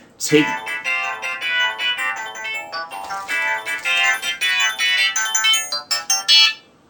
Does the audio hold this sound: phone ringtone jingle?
yes